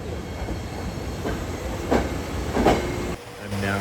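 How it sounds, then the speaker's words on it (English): A subway train runs through an underground transit system, a steady rumbling roar with rail clatter and a couple of brief metallic squeals, close and continuous, with faint voices mixed in. "I'm now in the subway system"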